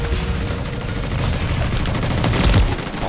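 Machine gun fire from the Call of Duty MW3 video game: dense, rapid bursts of shots run throughout and swell into a louder volley near the end, with no talk over them.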